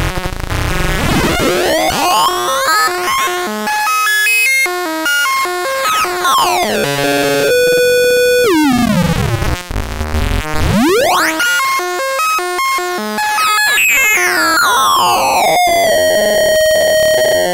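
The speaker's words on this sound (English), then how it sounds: "You will hear the downsampler start to self-oscillate like a resonant filter." A Spectra Mirror downsampler module self-oscillating like a resonant filter, with loud, continuous synthetic tones sweeping up and down through whistling, stepped harmonics and no voices.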